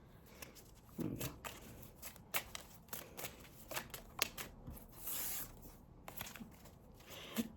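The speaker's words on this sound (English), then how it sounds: "I'm only shuffling at the minute. I'm not taking any of these cards right now." Tarot cards are shuffled by hand close up, giving a run of soft riffling and rustling bursts with brief pauses between them.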